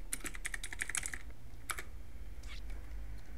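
Computer keyboard typing, a quick run of soft close clicks followed by a couple of isolated keystrokes in a quiet room.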